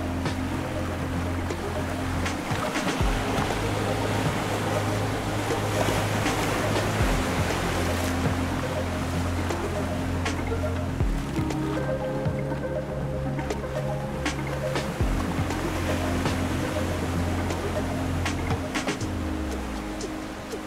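Following seas surge and wash around a sailboat in the Great Australian Bight as the wind builds, a continuous rushing roar of water with a low droning hum and periodic swells, close and loud, no talking.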